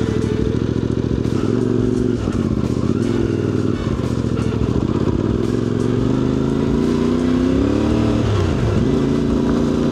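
A motorcycle pulls away toward a clifftop moto campsite in Lithuania, its engine loud and close the whole time with a steady rumbling drone, rattling clatter and revs that rise and shift near the end.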